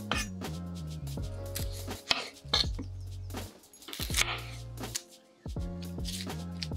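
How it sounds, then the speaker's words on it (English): A knife roughly chopping a peeled large onion on a cutting board for beef stew, a run of sharp close taps in an uneven quick rhythm, with soft background music and brief pauses between bursts. "Take one large onion, peel it and roughly chop it."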